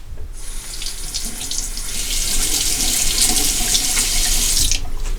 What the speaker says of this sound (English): Okay, I'll rinse off.